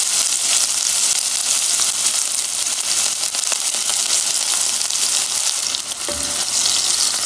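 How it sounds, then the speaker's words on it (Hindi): Onions sizzle in hot oil in a pan while aloo gobi is being cooked, giving a steady, bright, hissing crackle throughout. A brief stirring scrape comes near the end. "ये मैंने ऑयल गरम किया और अब इसमें ये मैं ओनियन ऐड कर दूँगा"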